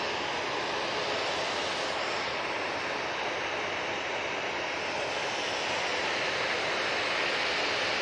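A Boeing 737 jet departs Manchester Airport for Antalya, a broad, steady hissing roar of engines sustained at an even, moderate level throughout, with no voices.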